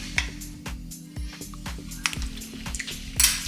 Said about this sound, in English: So we'll try putting half of it in first and mixing that in.